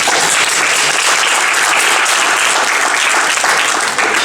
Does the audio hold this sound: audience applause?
yes